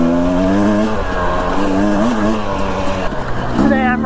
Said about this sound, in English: that's the beauty of riding a motorcycle